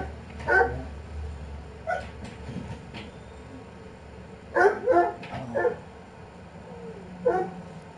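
Dog barks in short bursts at intervals, with a few yips and whimpers, moderately close and alone over a low background hum.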